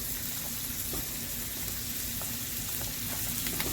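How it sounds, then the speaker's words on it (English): Rigatoni pasta boiling in a pot gives a steady bubbling hiss with faint pops, close and continuous without any talking. "We have our rigatoni pasta boiling there."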